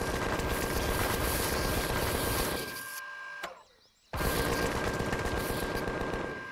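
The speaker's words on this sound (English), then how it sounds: "The recoil is real on the minigun." Sustained, loud minigun fire in the Empyrion Galactic Survival sci-fi survival game, a dense mechanical rattle that cuts out for about a second, leaves a near-silent gap, then resumes just as steadily.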